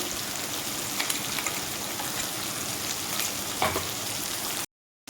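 Small fish fry in oil in a pan with a dense, even sizzle and spatter that runs nearly unbroken, then cuts off abruptly at the end.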